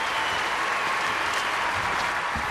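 Applause from a video game crowd follows a dive at an Olympic Games diving event, a dense, steady clapping roar that fills the whole stretch at an even level.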